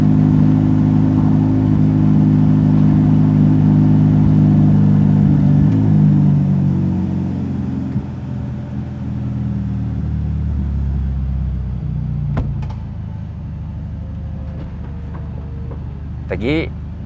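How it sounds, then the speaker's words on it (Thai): A Ferrari Portofino M convertible's engine roars on start-up, revving loudly with a deep rumble before easing into a steadier idle, followed by a few sharp clicks and a brief mechanical whir near the end. "ตะกี้เป็นการเร่งรอบตอนที่เราสตาร์ทนะครับ"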